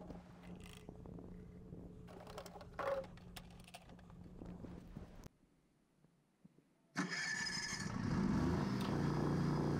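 A Kohler generator engine turns over and starts after a couple of cranks, topped up with antifreeze. A rough mechanical stretch is followed by a brief near-silence, then a loud, steady running drone.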